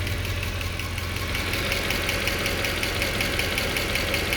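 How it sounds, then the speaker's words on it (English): A 2013 Mercedes C63 engine with 205,000 km idles cold after starting, humming steadily with a fast, light ticking running through it, a regular mechanical tapping from the valve lifters. "Little bit lifter sound, it's gonna go away later on."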